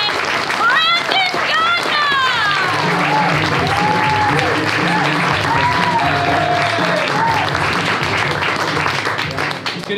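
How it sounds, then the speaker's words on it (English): Audience at a magic show claps and cheers loudly in a continuous burst of applause, with a few high shouts and whistles rising over the crowd noise. "I want to hear some little baby claps. A little bit louder."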